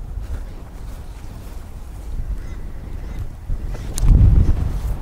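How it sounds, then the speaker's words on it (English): Steady wind buffeting the microphone with a low rumble that swells into a stronger gust toward the end. "Wow, it's so windy."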